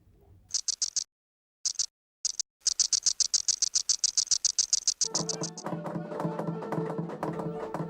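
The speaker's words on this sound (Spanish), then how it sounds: "Una membrana ondulada es frotada con un apéndice móvil muy duro." An insect drumming by rubbing a hard appendage against a corrugated membrane makes rapid, evenly spaced rattling pulses in close bursts with brief pauses, then a denser buzzing rattle at the end.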